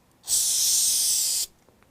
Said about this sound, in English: So you can actually spray this and it'll get into all of the cracks,